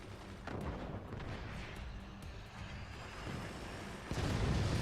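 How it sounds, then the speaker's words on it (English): Rockets and artillery fire in the physics-based strategy game Forts, a dense rumbling barrage of launches and blasts rolling on continuously, fairly faint and distant, with a heavier burst near the end and no talk. "we see another scenario where 2 out of 3 rockets are firing"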